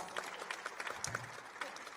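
A crowd at a women's panel discussion claps for a speaker being introduced, a brisk, continuous patter of many hands at moderate level, with a faint voice briefly audible in the middle.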